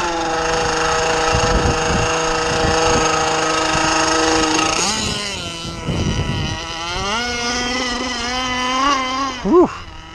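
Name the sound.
small engine running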